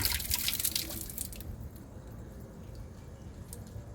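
Filtered water running from the output of an RO filter, a soft steady liquid flow that is fuller and splashier in the first moment before settling into a quieter trickle.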